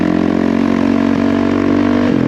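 A Honda CRF450RL dirt bike with an obnoxiously loud aftermarket exhaust holds a steady mid-pitched engine drone, close and continuous, dipping slightly near the end.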